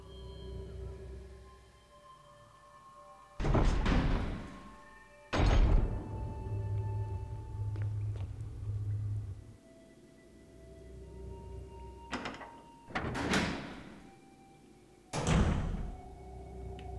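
Heavy doors thud and creak open in the Resident Evil HD Remake, several loud separate clunks spaced apart over a quiet, humming background, with one low electrical buzz in between.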